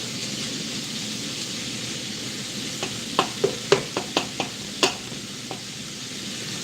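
Fish and onion sizzle steadily in a pan while a spoon stirs them, several sharp scraping clacks landing in a quick cluster midway over the constant frying hiss.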